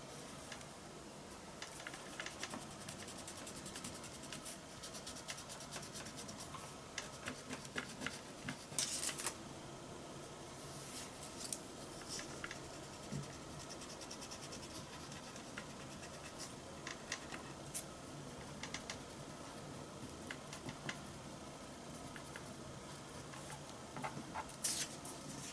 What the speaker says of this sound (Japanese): 丸と光の型を好きなところに合わせて内側の色を消しゴムで消していきます。